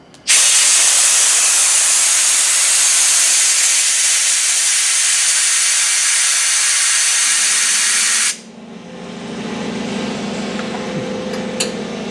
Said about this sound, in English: so I'm going to use an air hose